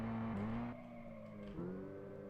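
A game car's engine in Unity3D drones and drops pitch twice as it shifts, with a faint scrape as the virtual car skids and crashes, steady and close with no speech.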